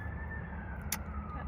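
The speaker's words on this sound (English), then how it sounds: "Pardon the sirens." Sirens wail outside in the distance, a steady faint tone carrying over low rumbling traffic noise throughout.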